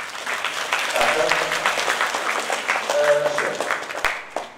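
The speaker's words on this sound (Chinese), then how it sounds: "掌声" Audience applause at a Buddhist dharma talk in a Chan temple hall, a steady broadband wash of clapping that runs for several seconds, swells and then tapers off, with a few brief voices mixed in.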